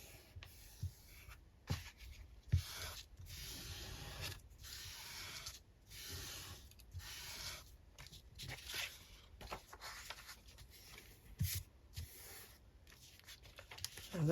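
Antique newspaper is lined up and folded over, giving a close, quiet run of papery rubbing, creasing and rustling strokes with brief pauses between them.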